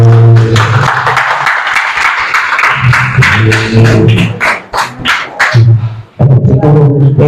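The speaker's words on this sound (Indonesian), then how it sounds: "mari kita tepuk tangan untuk kalian" A classroom group claps together for students, bursts of clapping mixed with loud speech from a teacher's voice that keeps cutting in over it.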